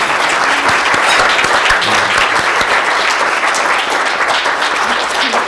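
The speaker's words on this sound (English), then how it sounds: "So I want to applaud Anna for all the work that she's done." Dense applause from a keynote audience at a conference fills the whole stretch at a steady, loud level, with no speech over it.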